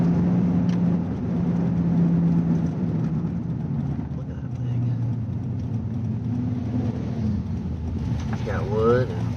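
A heavily modified vehicle fitted with wood, speakers and studded hubcaps speeds past on the road. A steady engine rumble holds throughout, nearby and fairly loud, with a brief chirp near the end.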